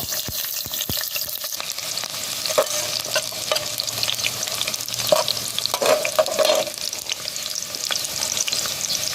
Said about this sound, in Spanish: Ahora le voy a agregar cebolla.